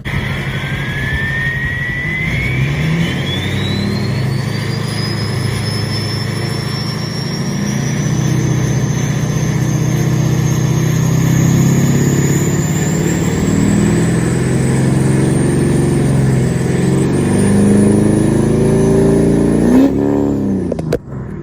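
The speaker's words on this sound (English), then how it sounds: "Let's go ahead and rev it up a little bit so you can actually hear the turbo." A Duramax LMM diesel truck fitted with a very loud aftermarket turbo revs for a long stretch, nearby and loud. The turbo whistle climbs steadily in pitch over the engine's deep drone, then cuts off abruptly at the end.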